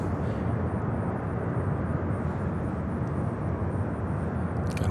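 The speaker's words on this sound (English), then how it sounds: "That was a beautiful takeoff." A jet airliner takes off at Louisville International Airport, a steady broad engine roar heard from a distance, fairly faint and unbroken for several seconds with no speech.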